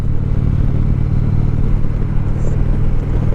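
A 2018 Indian Chieftain motorcycle heard from the saddle while riding, a loud, steady low engine drone with a smooth, even rumble and wind noise throughout.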